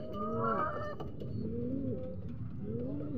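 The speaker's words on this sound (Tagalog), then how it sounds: "Ay si Pango mga kalapatids oh." Racing pigeons coo inside a loft, several rising, rolling calls repeating close by in a steady rhythm, with no talk over them.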